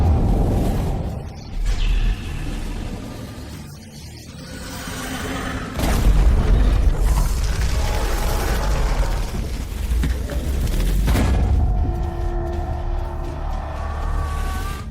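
Tank shell explosion: heavy, rumbling booms and blasts that roll on with dense low rumble and rushing, whooshing noise throughout, loud and continuous with no talking.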